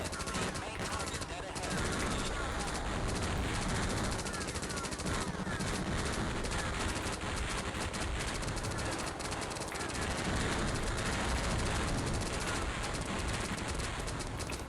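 Rapid, continuous machine-gun fire in the DOS flight game Thunderhawk 2: Firestorm, loud and dense throughout with steady staccato bursts layered over constant game noise, no talking.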